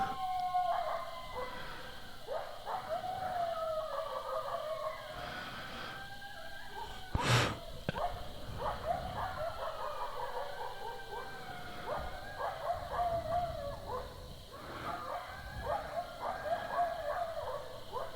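Outside on a back porch, a dog howls and barks in wavering, drawn-out cries with short yips between, faint and somewhat distant over a quiet background, with one sharp knock partway through.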